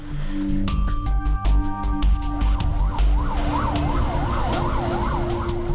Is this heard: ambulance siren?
yes